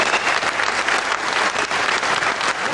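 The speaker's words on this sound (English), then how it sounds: "let's have a nice round of applause for both men" A wrestling audience applauds both men after a Johnny Saint versus Bob Anthony bout, a steady, dense wash of clapping from a crowd that holds evenly throughout.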